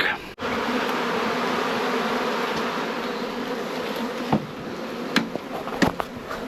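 Honey bees buzzing densely around nucleus hives just off a truck after a drive, a constant close hum with a few sharp knocks and clatters of handling toward the end.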